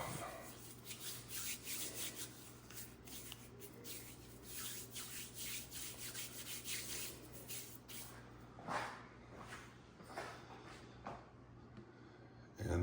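Hands coated in flour and biscuit dough scrubbed together, giving a steady run of soft rubbing and brushing strokes that stay close and fairly quiet, with no talking over them.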